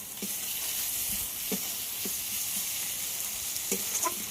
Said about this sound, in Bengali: যতক্ষণ না রসুনের কাঁচা গন্ধটা চলে যায় ততক্ষণ ভেজে নিতে হবে।